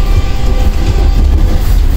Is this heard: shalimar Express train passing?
yes